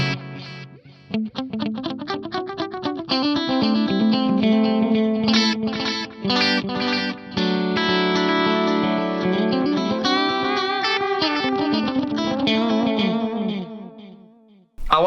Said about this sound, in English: And then my dual delays.